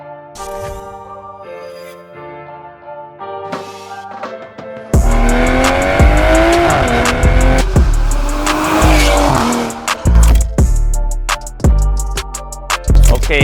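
Toyota Supra GR 3.0 with a Veleno performance exhaust, FEMTO unlocked ECU, boot mod 3 and custom tuning: a smooth idle gives way to loud, aggressive revving with crackling pops and a sustained roar, close by.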